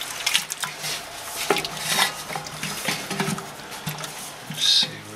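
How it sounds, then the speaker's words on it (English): Clattering and scraping as a decoction mash for an Oktoberfest beer is stirred around in a brewing pot, with irregular knocks and swishes of the paddle against metal, close up and fairly loud, with no talking. "Stir this all around. Get these guys all mixed in there."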